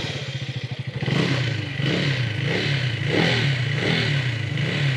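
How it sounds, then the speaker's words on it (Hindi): A KTM Duke 250 motorcycle engine idles with a rapid putter, then revs up and holds a loud, throaty roar with several pulsing surges of throttle. "सबसे पहले वो ड्यूक का जो साउंड है ना वो सुनते हैं देखो"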